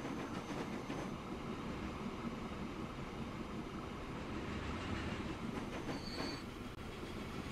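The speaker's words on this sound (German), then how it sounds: "Jetzt kommt hier noch unser Personenzug." A passenger train in Transport Fever 2 rolls steadily past, with a continuous low rumble, faint wheel clatter and a brief high squeal near the end, rather quiet and distant.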